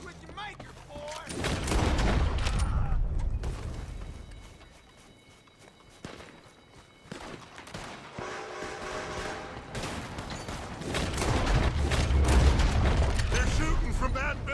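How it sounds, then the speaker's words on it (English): Shootout in Red Dead Redemption 2 during a raid on Cornwall's men: dense bursts of gunfire and footsteps fill the scene, easing mid-clip then building again, with shouted voices heard over the shots. "They're shooting from that building!"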